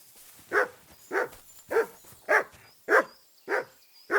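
A dog in the video game Kingdom Come: Deliverance 2 barks in a steady rhythm, seven evenly spaced woofs at moderate volume, with no voices between them.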